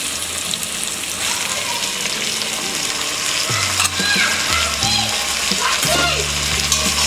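Potato pulao with tomatoes sizzling and frying in a pan over a medium flame, with a steady loud crackle and occasional stirring clatter throughout.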